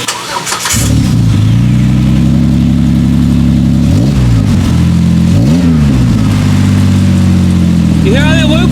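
A Jeep JKU with its muffler removed starts up and idles with a loud, raw exhaust note, then revs twice in quick succession before settling back to idle. The engine is close and runs steadily throughout.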